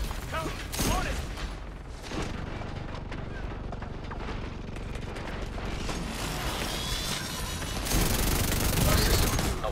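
Heavy gunfire and chaotic combat noise in The Division 2 at a White Oak camp, dense and continuous with a louder burst near the end, while a voice shouts over it.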